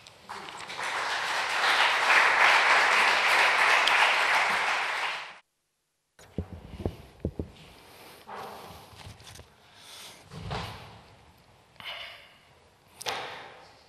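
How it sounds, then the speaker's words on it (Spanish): Poetry night audience at the Ateneo in Alcázar de San Juan gives a strong round of applause that swells for about five seconds and then cuts off abruptly, followed by scattered knocks, shuffling and faint rustles. "a vosotros que le deis un fuerte aplauso"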